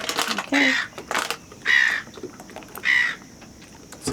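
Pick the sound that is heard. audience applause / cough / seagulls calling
seagulls calling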